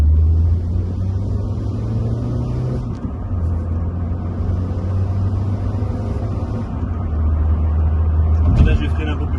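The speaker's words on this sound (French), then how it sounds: "je vais repasser en deuxième, je vais faire une accélération" Seat Ibiza engine pulling hard in second gear during a test drive, a steady low rumble that rises and swells over several seconds, heard from inside the car beneath continuous talk.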